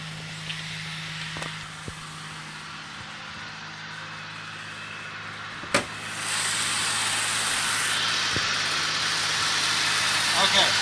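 A 2003 Chevy Impala engine idles with a steady low hum and a faint irregular rough note, parked with the hood open; the surrounding noise grows louder and broader midway through.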